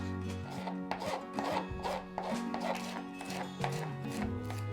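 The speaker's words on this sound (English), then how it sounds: "Thinly slice the spring onions" Close, quiet knife strokes thinly slicing spring onions on a board, a quick regular series of soft crunchy cuts, alone without any voice.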